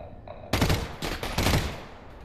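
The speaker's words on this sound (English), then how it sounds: "this is burst fire" Burst-fire gunshots in Half-Life: Alyx, three sharp loud bursts in quick succession after a brief quiet moment, each decaying quickly.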